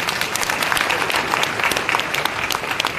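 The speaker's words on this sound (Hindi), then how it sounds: "एक एक उसके बाद ताली बजाते जाओ।" A crowd at a birthday celebration for a spiritual leader claps along steadily, dense continuous applause at a constant moderate level throughout, with no distinct voices.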